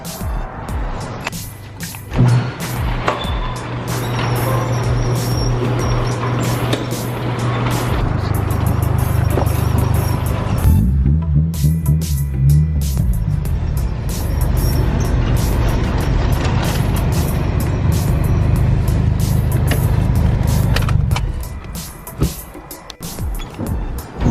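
A car is driven into a shop, with a steady engine hum and rumble that holds for about twenty seconds, briefly shifts pitch midway and then fades out, and no one talking.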